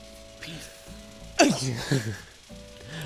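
A single sharp sneeze bursts out midway, loud and close, amid soft vocal sounds and a faint steady tone.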